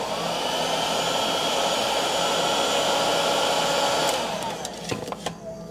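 A heat gun blows a steady, whooshing hum close by while it heats a stator sleeve on a Kawasaki F7 Bushwacker, then shuts off and leaves a few faint clicks and handling noises.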